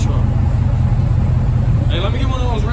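A deep, rumbling Honda Civic EK engine with B16A and straight header exhaust idles loudly and steadily throughout, its low throaty exhaust drone constant, with people talking over it.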